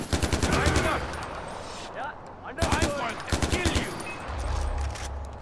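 Rapid automatic gunfire in Far Cry 4, loud and close, in bursts of quick regular shots that pause and resume, with scattered voices and background game noise under the shooting.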